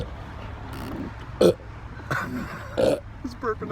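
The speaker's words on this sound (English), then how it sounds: "He's burping out smoke." A man belches repeatedly while exhaling smoke, three loud close burps spaced a second or so apart, with talking and room noise between them.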